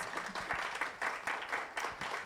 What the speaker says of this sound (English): Please give Coach a round of applause.